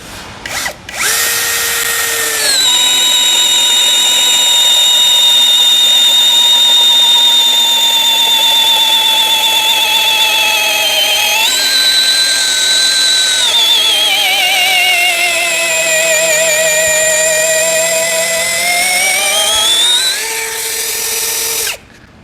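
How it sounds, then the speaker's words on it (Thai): A STR 21V brushless cordless drill whines loudly and continuously while boring into a large piece of wood, its pitch dipping and rising under load, then stopping abruptly. "เจาะกับไม้ท่อนใหญ่นะครับ"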